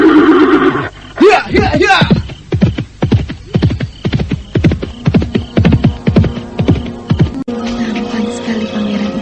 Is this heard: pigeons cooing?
no